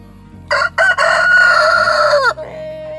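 Australorp rooster of an Australian laying line crowing once up close, loud and clear, a stuttered start breaking into a long drawn-out call that trails off, with no talk over it.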